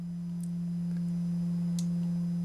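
A calibrated sine wave from an ST Modular Oberhausen oscillator sounds as a steady, pure, low tone held evenly throughout, with a couple of faint clicks in the background.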